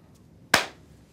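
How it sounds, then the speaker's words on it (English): A single sharp hand clap, close and crisp, standing alone against near silence with a short decaying tail. "Clap."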